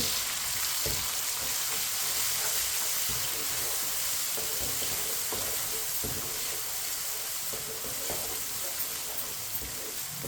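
Finely chopped tomatoes and green chillies cook in a pan and are stirred with a spoon: a steady, fairly loud sizzle runs throughout, with soft scraping strokes of the spoon.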